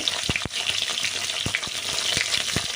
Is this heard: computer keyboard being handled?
no